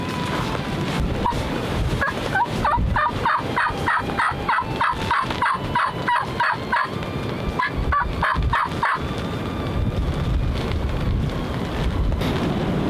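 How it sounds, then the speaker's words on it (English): Wild turkeys gobble during a youth turkey hunt in Wisconsin, repeated rattling gobble bursts from down in a bottom off to one side, moderately distant under heavy wind buffeting. "They're gobbling to our left. It sounds like they're down in the bottom to our left."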